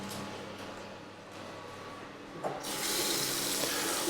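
A bathroom tap in a house in Oliva, Spain, runs hot and cold water, a steady hiss and splash close by that grows louder and fuller as the flow opens up partway through.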